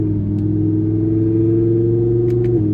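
An Audi R8 V10 Plus sports car's 610 hp V10 engine rumbles through the exhaust at a steady low idle-like drone, loud and close, with a slight shift near the end.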